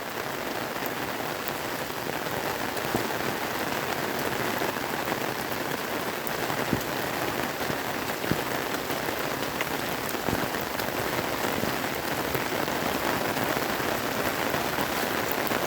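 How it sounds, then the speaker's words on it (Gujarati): Heavy rain falls steadily over waterlogged farm fields in a village, a dense, continuous close hiss of drops on surfaces that holds unbroken throughout, with no voices. "કેટલો વરસાદ પડી રહ્યો"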